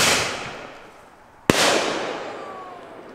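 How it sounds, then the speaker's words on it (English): Fireworks go off outdoors with a crackling burst that fades. A sharp, loud bang follows midway, then a long echoing decay. "lighting off fireworks"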